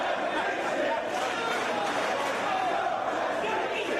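A wrestling arena crowd keeps up a dense, steady roar of cheering and chatter throughout, loud and continuous with no clear breaks.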